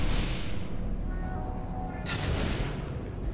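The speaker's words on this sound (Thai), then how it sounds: "เสียงระเบิดดังได้ใจมาก" A deep, rumbling explosion in the puzzle game Portal 2, heard as a sustained loud roar with a sharp crack about two seconds in, followed by a fading rumble.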